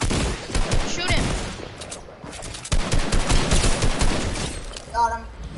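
Gunfire in a Fortnite Creative match, dense rapid volleys in two long stretches separated by a brief lull, with voices talking over the shooting.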